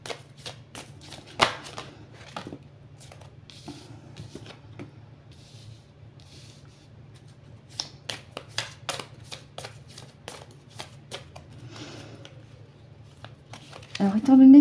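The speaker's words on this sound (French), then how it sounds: "J'en ai un peu trop. Allez, je remélange." A deck of oracle cards is riffled and shuffled by hand, giving repeated crisp flicking bursts with pauses between them. A quiet voice murmurs in the background.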